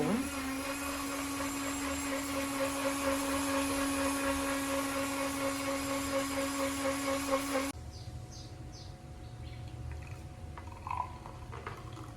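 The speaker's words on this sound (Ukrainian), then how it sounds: "Тепер збиваю гаряче молочко" Hot milk frothed for a matcha latte with an electric whisk: a steady, loud motor whine with a buzzing rattle for about eight seconds, then it cuts off to a quiet room with faint clinks.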